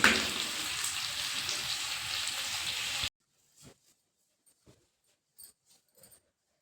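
Rotis are reheated on a hot pan, giving a loud, steady sizzle that cuts off abruptly after about three seconds, followed by near silence broken only by a few faint clicks and taps.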